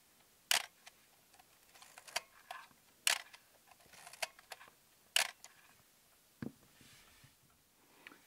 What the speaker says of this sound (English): let's just get the sound of the shutter